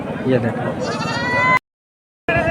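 Goats at a market in Garhwa, Jharkhand, bleat loudly and repeatedly amid crowd chatter, with a brief cut to silence partway through before the bleating resumes.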